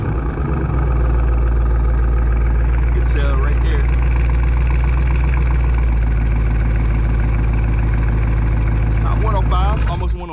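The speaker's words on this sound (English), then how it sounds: "now we're gonna see what his car sounds like on the startup here" A Dodge Charger with a mid muffler delete exhaust idles after a cold startup, holding a loud, steady, deep rumble close by while someone talks over it.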